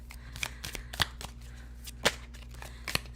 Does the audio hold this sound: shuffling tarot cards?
yes